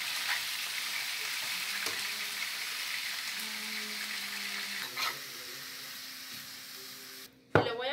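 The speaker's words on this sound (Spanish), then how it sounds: "Aquí ya casi tenemos dorando la carne" Minced venison picadillo sizzles steadily in a pan with melted fat, a continuous frying crackle with occasional stirring clatter and no one speaking.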